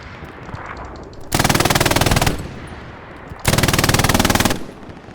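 Two long bursts of rapid automatic gunfire in the World War II shooter game Hell Let Loose, loud and close, each lasting about a second over steady background battle noise.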